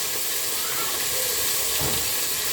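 Continuous loud hissing sizzle of omena, small sardine-like fish, frying in oil, steady and close, with no talking.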